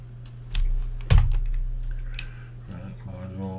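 Fast typing on a computer keyboard, close and clear, with a cluster of sharper key strikes near the start and lighter tapping trailing off.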